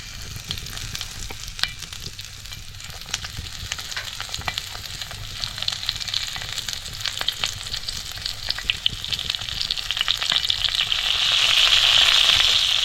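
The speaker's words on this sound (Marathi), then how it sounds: "आता तव्यात तेल आहे आणि चारच मिरची आता उरल्या त्यामुळे तेवढ्या मिरच्यांना एवढंसं तेल पाच आहे ते आपण आता भाजून घेऊया" Stuffed capsicum (bell peppers) shallow-frying in a little oil on a flat pan, Konkan style. The sizzle and crackle stays steady and close, then swells louder toward the end, with no talking.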